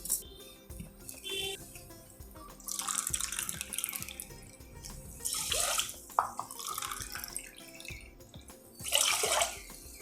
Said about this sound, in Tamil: ரெண்டு கப் தண்ணி விட்டேன்,